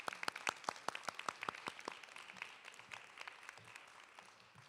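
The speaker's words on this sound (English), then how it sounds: "Please give him a round of applause." A ceremony audience applauds a pianist at a 2022 Phi Kappa Phi induction, starting with sharp, fairly close claps that thin into a softer, scattered patter as the clapping fades.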